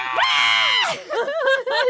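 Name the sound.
dramatic scream imitated by speaker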